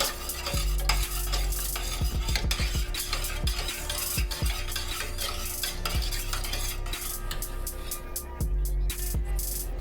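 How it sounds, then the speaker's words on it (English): Mushrooms sizzle in a pan while a utensil stirs them, giving repeated scraping clinks over a steady frying hiss, close and alone without talk. "So, we're gonna stir this up a little bit."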